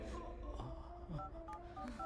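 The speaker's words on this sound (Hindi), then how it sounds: "मैं अभी पुलिस को फोन करती हूँ।" Telephone number dialed in a Hindi-dubbed South Indian action film, a quick run of distinct keypad tones heard over low background sound, with no talk.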